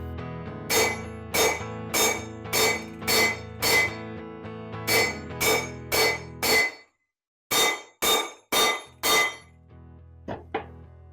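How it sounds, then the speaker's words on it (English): Sharp metallic sledgehammer blows ring out on a crosscut saw blade being straightened, a steady run of about a dozen strikes, then a pause and a few more, each leaving a bright ringing tail. "you straighten by hammering on the saw where you marked where the bends were"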